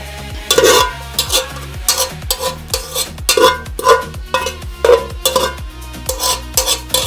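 A spoon scrapes steadily through a sizzling mixture with fried onions in a pan, giving loud, close, rhythmic stirring strokes over a constant frying crackle, with no talking.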